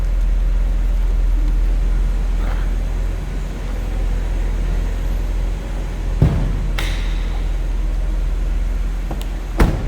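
A 1990 Mercedes-Benz 300E sedan idles steadily, heard from behind the car as a low, smooth, even hum, with a couple of brief knocks and clicks near the end.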